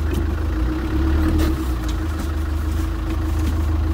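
A 1998 Land Rover Defender engine idles steadily and close, with a low, even rumble and no talk.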